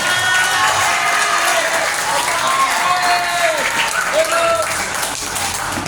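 Group applause from an audience at a student leadership training session led by an Indonesian army sergeant, dense clapping with voices and tonal sounds mixed in on top.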